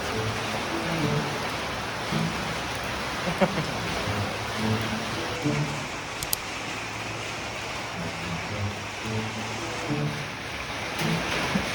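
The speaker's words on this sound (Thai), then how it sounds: "มาถึงกับบรรยากาศฝนที่มันแรงขึ้นพอดีเลย" Heavy rain pours down in Thailand as a dense, unbroken hiss that fills the whole stretch, with faint voices murmuring underneath.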